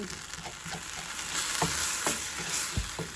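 Shrimp fry in a hot pan as buffalo sauce and brown sugar are stirred in, producing a loud, dense sizzle with repeated soft scraping strokes of the utensil.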